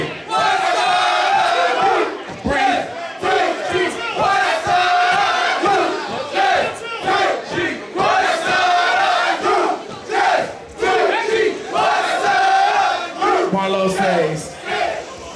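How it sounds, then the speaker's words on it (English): A loud crowd at a ballroom competition shouts and cheers in repeated surging waves, dense and close, with no distinct clapping standing out. "Gives you the round of applause."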